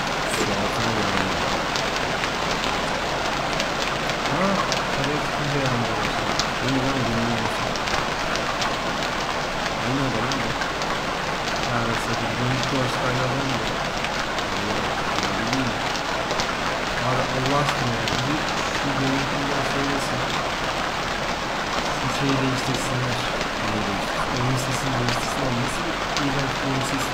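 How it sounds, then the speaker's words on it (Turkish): Rain falls steadily and densely in the survival game Stranded Deep, a constant loud hiss across the whole stretch. Someone talks intermittently over it. "Oğlum nasıl yağmur yağdı?"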